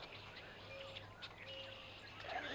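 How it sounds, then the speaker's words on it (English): Grackles calling outdoors, a few thin chirps and whistles scattered over a steady low hum and faint background noise, fairly distant and quiet, with no talking. "Good old grackles are back."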